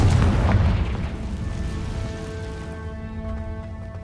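Confringo fire spell blasting in Hogwarts Legacy, one loud booming explosion at the start whose rumble fades out over a few seconds while a ringing tone lingers.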